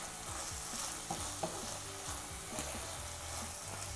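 Kara Saramana Guntur chicken frying and being stirred in a pan, a steady close sizzle with repeated scraping stirs throughout and no talking.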